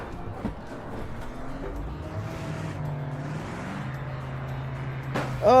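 A race car in the Project Motor Racing video game approaches, its engine note rising and falling faintly through the traffic before growing suddenly louder at the very end.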